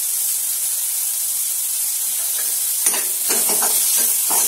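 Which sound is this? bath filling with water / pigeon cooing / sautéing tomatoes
sautéing tomatoes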